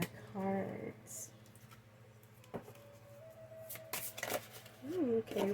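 Oracle cards are shuffled and drawn during a pick-a-card reading, giving soft riffling and brief slaps close by, while a voice speaks over part of it and a low hum runs underneath.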